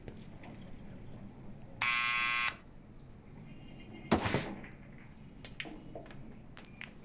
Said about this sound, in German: Dann klingel ich einfach mal. Summer.